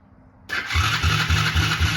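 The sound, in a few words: engine turning over and starting during compression check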